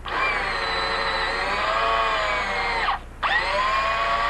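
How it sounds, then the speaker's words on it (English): A power tool runs steadily while tapping drilled holes in cast iron with an 8-32 tap, whining loudly, cutting out briefly near the end, then restarting. "I drilled 2 holes and I'll tap them with an 832 tap."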